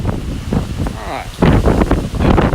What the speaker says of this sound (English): big old gust of wind